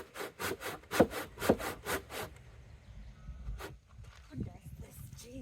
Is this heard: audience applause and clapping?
no